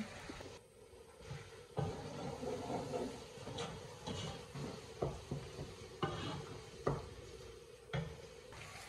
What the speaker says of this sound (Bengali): পেঁয়াজটা কিন্তু তেলের লগে অনেক সময় ভাজা হয়েছে